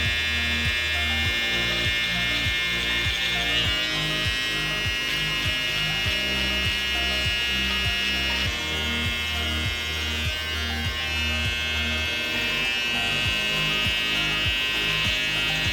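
Electric hair clippers buzzing continuously and loudly up close while cutting one's own hair, with a steady high drone and a low pulsing rumble as the blades move through the hair.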